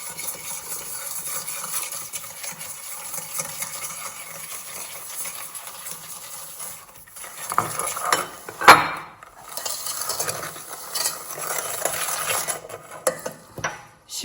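Sugar being stirred into a mixture for a Napoleon cake with custard cream, a steady soft scraping and clinking of utensil against bowl, with a few louder knocks and clatters toward the end.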